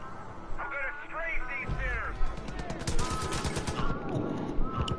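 Gunfire from the video game Far Cry 5, rapid bursts of shots crackling through the mix alongside in-game radio-like chatter and a voice, moderately loud and dense over several seconds.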